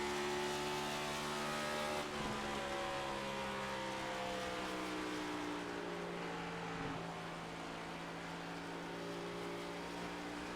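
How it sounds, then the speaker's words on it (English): Race car in the Champion Power Equipment Fast N Fun Cup Series at Homestead-Miami Speedway accelerating hard out of turns 3 and 4, a loud continuous engine roar with rising pitch through the gears and no voices. "Listen again as he comes off of turn number 3 and 4. Listen to that accelerator and listen to the clutch."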